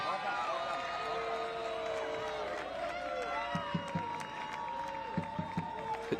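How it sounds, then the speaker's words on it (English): Soccer crowd at an Orange County SC versus San Antonio FC match giving mock cheers and scattered clapping, a mid-distance murmur with short claps and shouts, partly under a voice talking. "It draws the mock cheers from the crowd for about a minute and a half."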